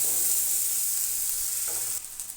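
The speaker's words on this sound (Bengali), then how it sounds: "মশলাটা একটু ভেজে নেব। একটু ভাজার পর আরও কিছু মশলা যোগ করবো এর মধ্যে।" Spices fry in a pan with a bright, steady, close hiss, and a few stirring scrapes come near the end.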